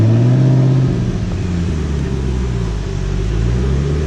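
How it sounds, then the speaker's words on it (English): Ford GT engine idling and creeping forward at low speed as the car is driven onto a lift, a steady loud low rumble with a slight dip mid-way and no talk. "this is how you put your Ford GT away."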